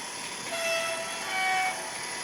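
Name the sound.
model locomotive sound decoder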